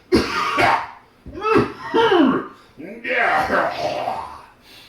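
A couple of sharp coughs at the start, followed by a voice talking in short bursts.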